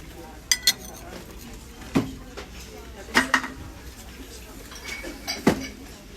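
Several sharp ceramic clinks and knocks at irregular intervals, a ceramic dish being set on a carafe as a lid, close by, with low background room noise.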